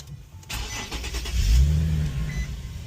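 An Infiniti QX70 (FX37) engine starts by remote start after a click, cranking then settling into a steady low idle rumble close by, with no talk.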